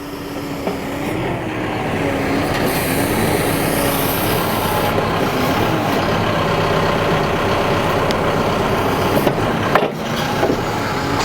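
A side shift backhoe's diesel engine runs steadily while it digs beside a buried pipe, a loud continuous mechanical drone with a tonal hum and occasional clanks near the end, no talking.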